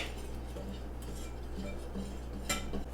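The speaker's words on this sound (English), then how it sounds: "And give it a little whisk." A whisk stirs flour, baking powder and salt in a bowl with light, steady clinking and scraping against the sides, close and fairly quiet with no talk.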